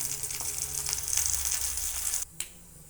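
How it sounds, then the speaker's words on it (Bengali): Onions half-fried in hot oil hiss with a bright, steady sizzle that cuts off abruptly near the end, followed by a brief crackle; no one speaks. "হয়ে গেছে, পেঁয়াজটা হাফ ভাজা হয়ে গেছে।"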